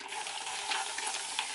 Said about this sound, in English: I'm going to spray this here with water